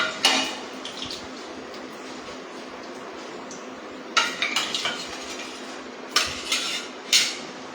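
Freshly fried samosas lifted onto a plate at home, with a few sharp clinks and scrapes of utensil against dish, one near the start and then a cluster of knocks later on, over a quiet room hum.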